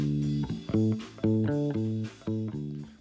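Bright, clear isolated bass line, a run of plucked notes with sharp attacks and short decays, loud and close with no voices.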